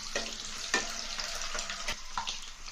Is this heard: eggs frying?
yes